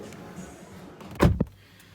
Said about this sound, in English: let's close the doors